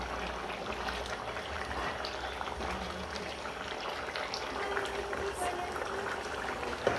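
Egg curry gravy simmering and thickening in a pan, a steady bubbling hiss that runs unbroken throughout, with someone talking over it.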